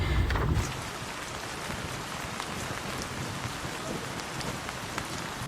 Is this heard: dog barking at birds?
no